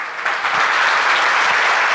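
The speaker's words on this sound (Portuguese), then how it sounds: "Quem está alegre, dá uma salva de palmas para Jesus." A church congregation claps continuously during a service, a dense, even wash of applause that holds steady throughout without any talking.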